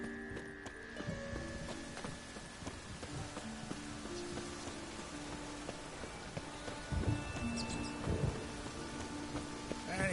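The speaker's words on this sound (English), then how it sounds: "And it's raining again." Rain in the game The Witcher 3, a faint steady patter of falling drops beneath tonal game ambience and scattered clicks and thuds, with a louder burst of activity near the end.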